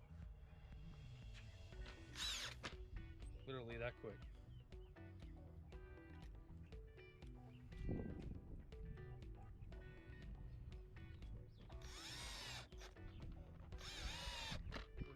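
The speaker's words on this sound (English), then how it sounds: "Just take your trusty old drill." A handheld power drill drives short shank screws into a stone crab trap in several quick, loud bursts separated by quiet pauses and handling noises, with a brief spoken remark between them.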